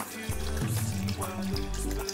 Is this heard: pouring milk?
yes